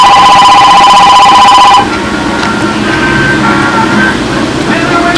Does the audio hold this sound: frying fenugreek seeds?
no